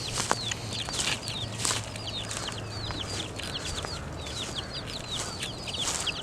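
Backyard chickens in a coop keep up a steady chorus of short, rising clucks and chirps, with several birds calling near and far over a constant outdoor hum.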